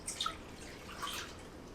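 Faint trickle and drips of water poured into a cooking pot for grits, brief and quiet with no talk over it.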